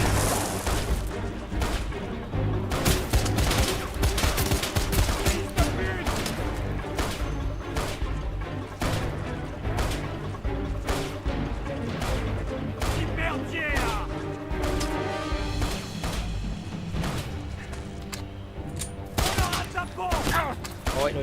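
Dense, continuous gunfire and explosions from the video game Wanted: Weapons of Fate fill the whole stretch, with rapid overlapping shots, crashes and booms at steady high loudness and no let-up.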